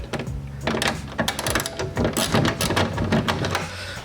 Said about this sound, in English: So we got our 10mm socket and socket wrench